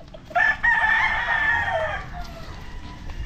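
A rooster crows once nearby at a farm, a loud drawn-out call over a background of chickens and quiet ambient noise, with no speech.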